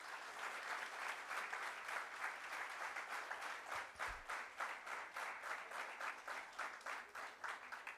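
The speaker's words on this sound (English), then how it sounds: "Let us give warm welcome to all the dignitaries on the dais with a round of applause." Sustained applause from an audience welcoming dignitaries seated on a dais at a formal gathering, steady dense clapping that stays loud and even throughout with no talk over it.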